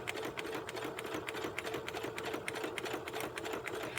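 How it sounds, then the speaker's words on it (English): A home sewing machine with a dull needle plunks in a fast, even rhythm of soft mechanical thumps, close and continuous throughout. "I can hear my needle is just going plunk, plunk, plunk, plunk, plunk"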